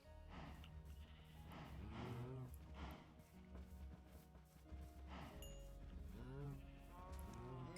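Sheep bleating in Minecraft survival mode, several wavering calls repeating through the clip over a steady game background, with a voice talking at times.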